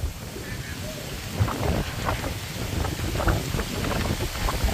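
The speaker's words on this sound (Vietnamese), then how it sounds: "Quá trời mưa quá rồi, tạt quanh đây luôn rồi." Heavy rain pours and splashes around an open spot near a bridge, a dense steady roar with gusts of wind buffeting the microphone, loud and continuous.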